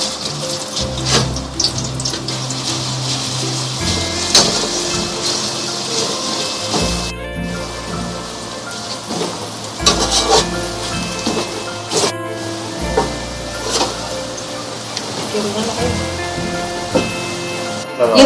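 Onions browning in a pot of hot cooking oil for beef biryani, a close continuous sizzle and crackle with scattered pops, occasionally broken by clanks of stirring.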